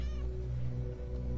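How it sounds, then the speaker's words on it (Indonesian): A single close, clear cat meow rings out loudly at the start and trails off into a steady background hum. "Ya ampun, kucing."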